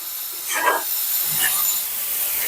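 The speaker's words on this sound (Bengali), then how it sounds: "আমি ভুনা করে নিলাম" Food being fried (bhuna) in a pan on a kitchen stove gives a steady, fairly loud sizzling hiss with a couple of brief bursts of spitting, and no talk over it.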